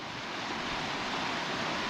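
Peaty water from the Loch Lee dam rushes steadily through a broken gauging station below it, a continuous broadband roar of flowing water with no breaks.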